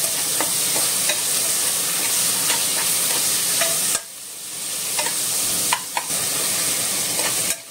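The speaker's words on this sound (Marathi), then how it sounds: "आतां हांव घातां हे चॉप्ड टोमॅटो आनी चिलीज घातां ओके आनी तेका भाजून घेता" Chopped tomatoes and chilies frying for mutton xacuti, a steady close sizzle with scattered stirring clinks, briefly dropping quieter twice before the hiss resumes.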